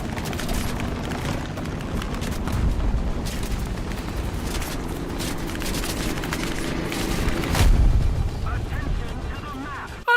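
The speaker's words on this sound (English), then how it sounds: "I managed to successfully pull off a rocket strafe" Rocket strafe explosions in War Thunder: a rumbling barrage of booms and blasts rolling over several seconds, swelling louder near the end, moderately loud with a continuous low roar underneath.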